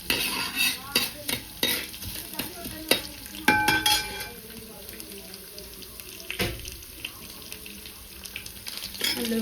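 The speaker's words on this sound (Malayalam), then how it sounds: "നല്ലതുപോലെ ഇളക്കാം." Vegetables stirred in a hot frying pan in a home kitchen, with a spoon scraping and clattering in irregular bursts over a steady soft sizzle, close and moderately loud.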